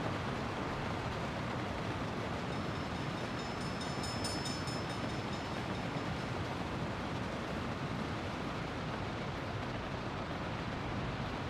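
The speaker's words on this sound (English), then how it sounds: "There's the money train." A train rumbling past in Workers & Resources: Soviet Republic, a loud, steady roar of rolling wagons throughout, with a faint high squeal partway through.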